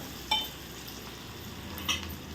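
Pieces of brinjal, potato and tomato fry in a pan with a soft, steady sizzle, while a spoon scrapes and stirs twice, giving two brief clinks over the low hiss.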